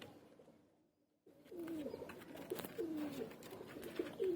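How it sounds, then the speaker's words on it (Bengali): Lively pigeons in a cage coo in repeated, close rounds after a brief quiet opening, their throaty calls rising and falling over a soft background. "প্রচণ্ড অ্যাক্টিভ পায়রা। খাঁচার মধ্যে স্ট্যান্ড কোয়ালিটি দেখেন পায়রার।"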